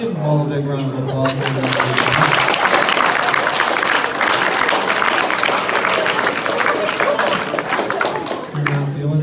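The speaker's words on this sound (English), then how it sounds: "Let's give them all a big round of applause" Audience at a high school after-prom hypnotist show bursts into sustained applause with cheering, filling most of the stretch; a voice talks briefly before and after the clapping.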